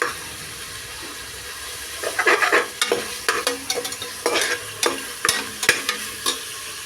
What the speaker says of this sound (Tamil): நம்ம இந்த தக்காளியை நல்லா இப்படி இப்படி இப்படி பண்ணி விட்டுட்டே இருக்கணும் ஸ்மாஷ் பண்ணணும்